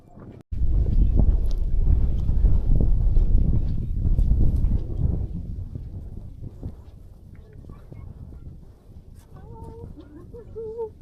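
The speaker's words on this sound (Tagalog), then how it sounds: "Ang dami ng hangin." Strong wind blasting across an exposed mountain trail on Ma On Shan via the Hunchbacks, with loud, close buffeting rumble that eases after a few seconds into steadier gusts, while people speak faintly.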